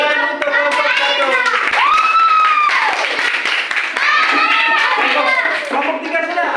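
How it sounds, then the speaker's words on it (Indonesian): Young pupils in a fourth-grade classroom clap for a group of classmates, with lively children's voices and shouting over and among the rhythmic clapping. "tepuk tangan untuk kelompok 1"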